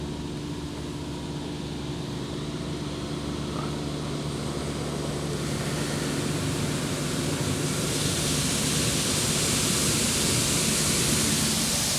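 High-pressure water jets spray inside an Istobal M'Nex 22 automatic car wash, a dense steady hiss and roar that grows slightly louder and brighter over time, with no voices.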